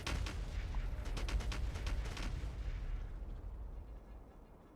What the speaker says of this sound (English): There's something satisfying as well about seeing a bunch of artillery shells hit things.